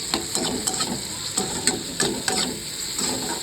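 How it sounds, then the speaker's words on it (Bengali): Spices with turmeric, chilli powder and salt being sautéed in a pan for palak dal: a rhythmic series of spatula scrapes and taps over a continuous sizzle, close and fairly loud, with no talking. "ভালো করে কষে নিলাম।"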